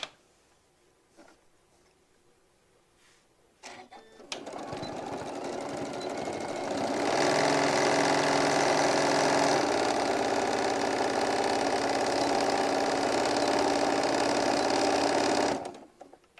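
A sewing machine stitches pocket lines across a hobo bag, starting after a few quiet seconds of handling, then running loud and steady for about eleven seconds before stopping abruptly.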